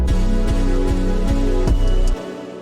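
Stutter effect on the final chord of a trap beat, with melody and 808 bass chopped into rapid repeated hits, loud and punchy, then cutting abruptly to a quieter tail.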